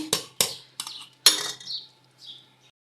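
A spoon scrapes and clinks against a metal pot while stirring thick dal for chicken haleem, with a few sharp knocks early on, then softer scraping strokes that taper off, close and fairly clear.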